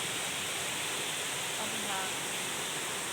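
A small waterfall spills over rock terraces at Khao Sip Ha Chan in Chanthaburi, a steady rushing wash of water with a faint voice briefly audible.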